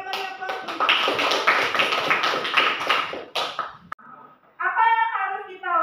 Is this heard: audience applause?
yes